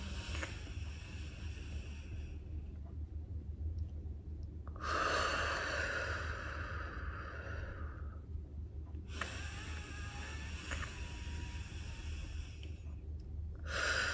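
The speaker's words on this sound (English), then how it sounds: "butterfly taps and deep breathe in, deep breathe out. So it'll look like this." Deep breathing during a calming exercise with butterfly taps, two long breaths of several seconds each with a pause between and a short start of a third at the end, close and fairly soft over a steady low background hum.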